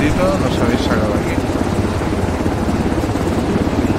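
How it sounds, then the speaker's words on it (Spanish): Two ArmA 3 helicopters with no tail rotor circle overhead, their rotors making a loud, continuous rhythmic chop under a person speaking. "¿Habéis visto los helicópteros como van los dos girando sin rotor de cola?"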